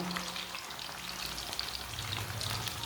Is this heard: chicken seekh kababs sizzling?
yes